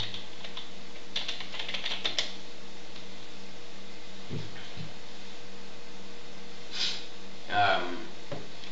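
Typing on a computer keyboard, several quick bursts of light key clicks at a moderate distance over a low steady hum, with a few quieter taps later and no clear talking.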